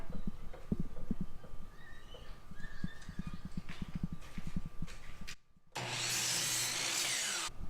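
A hand saw cuts through a wood piece for a rustic farmhouse table in quick rhythmic strokes, close and moderately loud, then pauses briefly before a louder steady rasp of cutting near the end.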